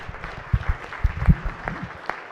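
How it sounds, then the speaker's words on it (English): Applause in the Maryland Senate chamber during a floor session: a modest round of scattered claps at moderate distance, uneven and thinning out within a couple of seconds. "would you all please give them a round of applause"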